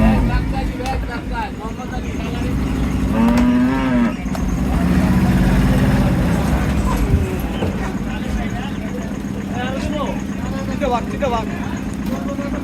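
Cattle moo at Hazratpur cattle market as a large bull is unloaded, with a clear drawn-out low moo amid steady crowd chatter, vehicle noise and a dog barking faintly.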